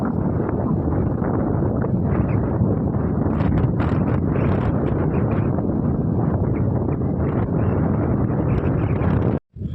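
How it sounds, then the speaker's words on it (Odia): Strong wind roars across an open waterside fishing spot, a loud unbroken rumble and buffeting against the microphone that lasts throughout and cuts off abruptly at the end. "ବହୁତ ପବନ ହେଉଛି"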